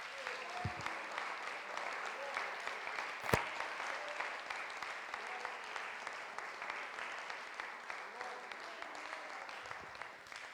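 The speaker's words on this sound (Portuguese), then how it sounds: "Vamos aplaudir bem forte ao Senhor?" A church congregation applauds in a steady, dense wash of clapping that carries on for the whole stretch, with a single sharp knock partway through.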